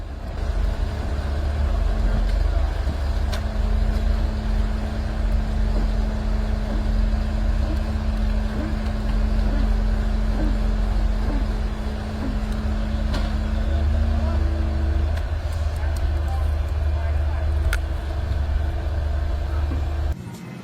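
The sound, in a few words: super truck hauling a giant tracked excavator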